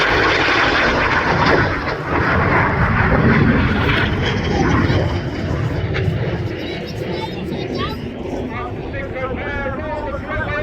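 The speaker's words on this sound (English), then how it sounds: "Each aircraft perform a barrel roll, followed by inverted flight in a manoeuvre called the crossbow." Roaring jet aircraft flying past at the RAF Cosford airshow, a loud sustained rushing roar that slowly fades, with an announcer talking over it on the public address.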